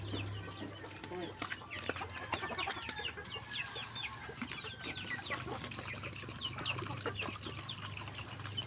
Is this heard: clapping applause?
no